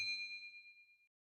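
A single bright notification bell ding strikes once, clean and close, then rings out in a smooth fading tone for about a second before silence.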